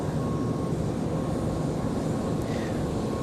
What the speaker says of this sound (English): So Aeromexico taxiing out to the end of 5 left.